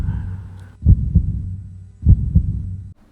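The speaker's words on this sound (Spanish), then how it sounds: "Ahí está, ahí, el latido de su espantoso corazón." A heartbeat sound effect accompanies a Spanish reading of Poe's The Tell-Tale Heart: two deep lub-dub thumps, close and booming, after a low fading tone.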